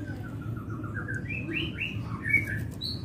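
A white-rumped shama (murai batu) in its molting stage calls in a quick run of clear, rising and falling whistled chirps. The song is close and bright over a steady low background hum.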